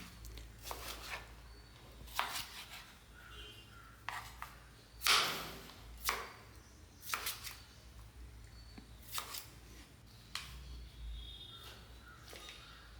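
Vegetables are chopped into pieces for a Kerala vegetarian lunch, giving sharp, irregular knife knocks on a board at close range, spaced a second or two apart against a quiet room.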